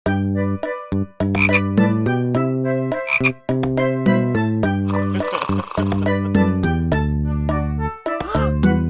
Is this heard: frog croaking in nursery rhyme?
yes